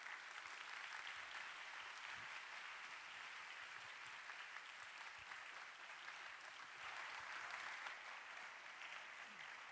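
A church congregation at a university-group service welcomes the preacher to the front with applause, a soft, steady wash of clapping heard from a distance, holding at an even level throughout with no voices above it.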